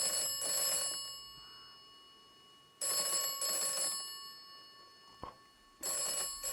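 An old-style telephone bell rings in the video game Atomfall, three loud bursts of rapid jangling separated by roughly two seconds of silence, with a faint click between rings.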